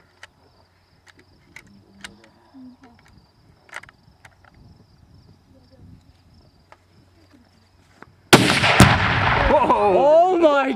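A gunshot at an outdoor target sets off a huge explosion, arriving as a sudden loud blast after several seconds of quiet insects and faint distant pops, then a sustained roaring boom with people exclaiming over it.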